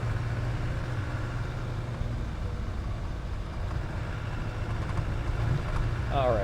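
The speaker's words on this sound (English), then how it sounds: "we'll turn the radio down so you can hear every little bit of noise coming out of this vehicle" A 1991 Land Rover Defender 130 with the 200Tdi diesel engine drives along a road, its steady low engine drone and road rumble continuous inside the cab with light rattles.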